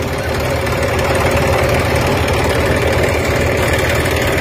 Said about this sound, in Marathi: 5210 जॉन डियर हा ट्रॅक्टर